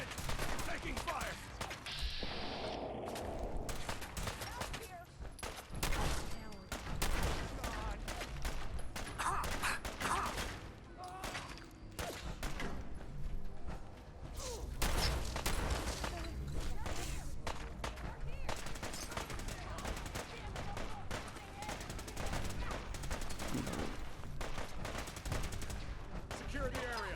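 Heavy gunfire rattles through a Fallout game battle around Liberty Prime, continuous volleys and machine-gun bursts with mechanical clatter for the whole stretch, with shouted voices in the mix.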